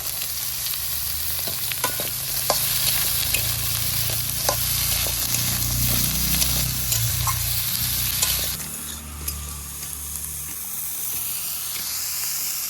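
Brinjal fries in oil with browned garlic, a loud, steady sizzle with frequent scraping and tapping of a spatula. The sound eases to a softer hiss toward the end.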